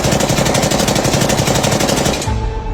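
Sustained loud burst of rapid automatic gunfire, dense and continuous, ending abruptly with a lingering ring afterward.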